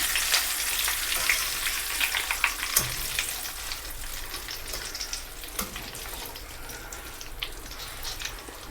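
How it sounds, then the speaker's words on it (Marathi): Curry leaves fry in oil over lowered gas for spicy poha chivda, giving a steady close sizzle with scattered sharp pops and crackles throughout and no voices. "असा मस्त कढीपत्ता तळून घेऊया."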